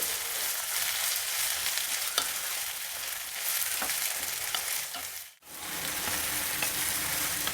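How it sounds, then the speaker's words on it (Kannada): Onions and chopped tomato frying in a pan for tomato rice bath, a continuous close sizzle with occasional stirring scrapes and one brief pause, no talking. "ನೋಡಿ ಈರುಳ್ಳಿ ಟೊಮೆಟೊ ಎಲ್ಲ ಆಲ್ಮೋಸ್ಟ್ ಫ್ರೈ ಆಗಿದೆ"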